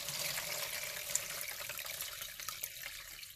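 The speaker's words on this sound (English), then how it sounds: "I'm going to pour all of that liquid through the strainer." Banana peel tea poured through a strainer into a bowl, a steady liquid splash running for about three seconds, close and moderately loud with no talking.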